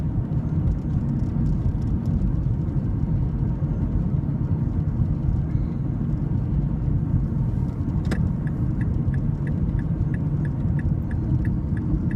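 A car drives through traffic in a snowy Winnipeg neighbourhood, its steady road and engine rumble heard from inside, with a turn-signal indicator ticking in an even rhythm for the last few seconds.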